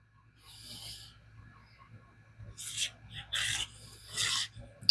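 Freehand sharpening of a Spyderco Manix 2 LW knife in CPM steel on AO abrasive film gives close, quiet rasping strokes in several short bursts, the last few coming quicker and a little louder.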